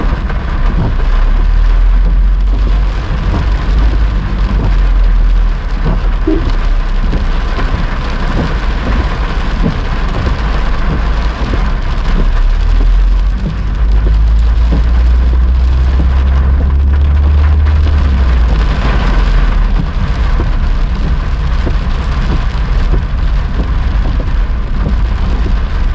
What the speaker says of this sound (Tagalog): Grabe nga ulan.